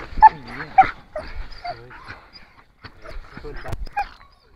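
Belgian Shepherd during protection training, giving sharp barks, yips and high whimpers in an excited burst, close by and mixed with a trainer's talk.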